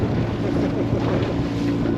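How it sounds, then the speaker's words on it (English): Steady, loud wind buffets the microphone with a constant roar, outdoors and continuous, with no voices. "It's a little bit windy"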